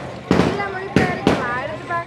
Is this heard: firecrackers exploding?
yes